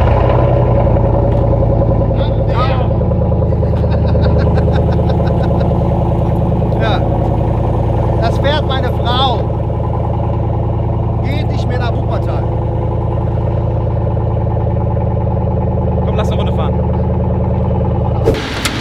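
A Chevrolet Silverado pickup with a performance exhaust idles with a deep, steady, loud rumble close by, sustained throughout. People talk over it.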